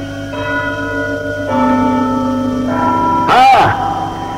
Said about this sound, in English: here is the church clock, which strikes every quarter